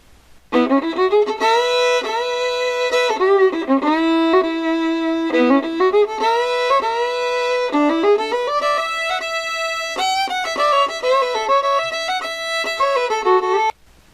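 A solo fiddle plays a bright, lively melody on its own, with sustained bowed notes and quick runs that carry steadily for over twelve seconds.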